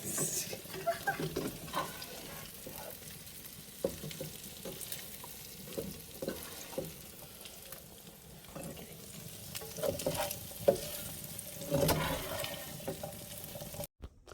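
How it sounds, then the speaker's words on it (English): A spoon stirs salt and pepper beef frying in a pan, with quiet, scattered scraping and sizzling in short irregular bursts. "we'll stir it all around"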